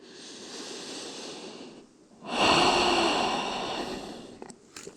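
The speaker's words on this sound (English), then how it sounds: "Take one full breath." A slow, full breath taken during a beginner yoga flow while lying face down with the forehead on the hands: a soft, airy inhale, then a louder, longer breathy exhale, close and alone.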